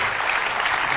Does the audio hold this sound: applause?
yes